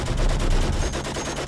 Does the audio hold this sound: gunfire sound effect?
yes